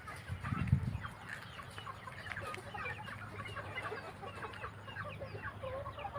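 An eight-month-old cockerel clucks repeatedly in short, scattered calls over a steady background hum, with a louder low thump near the start.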